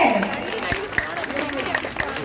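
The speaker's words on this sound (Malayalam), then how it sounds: "ഒരു നല്ല കൈയടിയൊക്കെ പോരട്ടെ" Audience applause at a cake-cutting celebration on stage, a dense wash of clapping with voices and crowd chatter mixed through it, steady and moderately loud for a couple of seconds.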